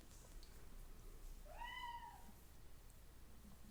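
A single cat meow rises and falls once in the middle, fairly faint against quiet room hiss.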